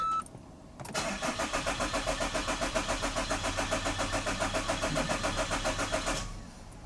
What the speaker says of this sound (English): So let's go and start up the car.